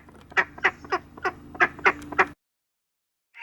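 A caged duck quacks about seven times in a quick, steady series, loud and close, then falls silent.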